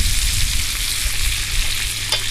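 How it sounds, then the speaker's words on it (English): Bacon fries in a pan over a camp fire with a loud, dense sizzle and crackle, stirred now and then, close up with an outdoor rumble underneath. "So let's get this bacon stirred around here, get it browned up"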